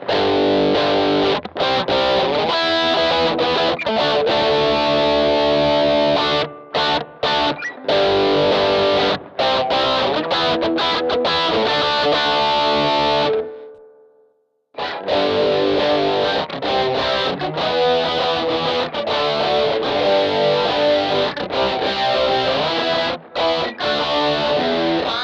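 Electric guitar played through AmpliTube's Joe Satriani distortion setting, a loud saturated tone with sustained chords and riffs, briefly cut to silence midway before resuming, no voices.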